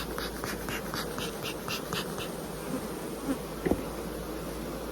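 A dense, steady buzzing of many honey bees at a hive fills the air close by, with a couple of brief louder knocks near the end.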